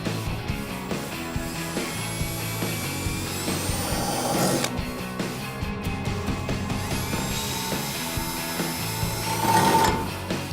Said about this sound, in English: we're going to use our drill with a 1/2 inch drill bit and drill these holes out